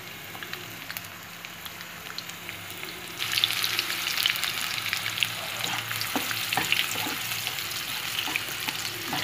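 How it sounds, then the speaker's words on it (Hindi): Finely chopped onion goes into hot oil for a spicy Bengali-style egg curry, and a continuous frying sizzle rises sharply a few seconds in and stays steady and close, with no talking. "अब इसमें मैं डालने जा रही हूँ प्याज, जो छोटी सी मैंने काटी थी, बहुत छोटी सी, वो डाल रही हूँ मैं।"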